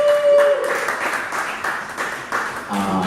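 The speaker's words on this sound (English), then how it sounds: "Stephanie, give her a big round of applause for being here." A workshop audience at Brooklyn College applauds, a dense wash of clapping that continues steadily for a few seconds after a brief tone at the start.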